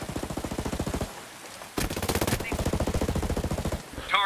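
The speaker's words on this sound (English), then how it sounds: "I hear gunfire." Rapid bursts of automatic gunfire in Ghost Recon Breakpoint PvP, a long volley, a brief pause, then another sustained burst, sharp and near, with a faint electronic cue at the end.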